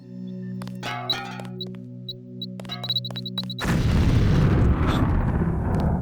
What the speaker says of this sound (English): that seemed like a big explosion